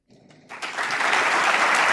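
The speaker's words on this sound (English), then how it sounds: "please give a big round of applause for D. Sivanandhan sir" An audience at a panel discussion on internal security breaks into applause. It starts with a few scattered claps, then swells quickly into full, sustained clapping that stays strong to the end.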